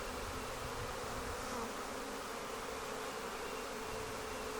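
Honeybees buzz in a dense, continuous drone from a red Flow Hive during a hive inspection, steady and close with no break.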